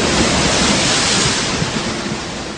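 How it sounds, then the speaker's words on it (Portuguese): Storm waves churning on a lake, a loud, steady broadband roar of surf and wind-driven water with no voices, sustained throughout as a sound effect. "uma grande tempestade agitou o lago, de tal maneira que as ondas começaram a cobrir o barco."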